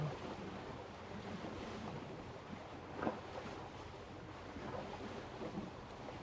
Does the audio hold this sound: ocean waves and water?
yes